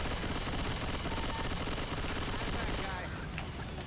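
Submachine gun firing in Left 4 Dead 2, a sustained dense rattle of rapid shots amid a loud chaotic game mix, continuous for several seconds before easing off near the end.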